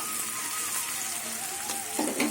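Garlic sizzles steadily in hot oil in a pan over a gas flame, close up. A soft, even crackle with a brief louder spatter near the end.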